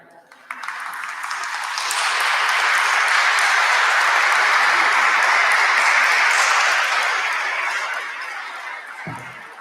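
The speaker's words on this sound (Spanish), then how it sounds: "Que no paran de aplaudir." A lecture audience claps after a talk, applause building from scattered claps into a loud sustained ovation that fades out near the end.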